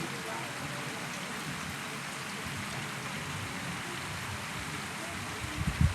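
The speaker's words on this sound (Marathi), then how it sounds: "हे बघा पाऊस चांगलं वारा पण सुटलेलं आहे खूप." Rain driven by strong wind, a dense, even hiss of falling water and gusting air throughout, with a few low thumps near the end.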